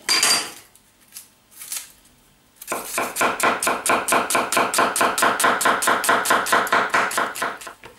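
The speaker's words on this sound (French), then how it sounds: "on va maintenant émincer l'oignon" Knife chopping an onion on a board for a Provençal beef daube, a steady fast run of crisp, evenly spaced taps close by, after a few scattered knocks at the start.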